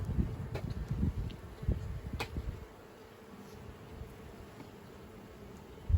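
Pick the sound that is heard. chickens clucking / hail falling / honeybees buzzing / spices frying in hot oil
honeybees buzzing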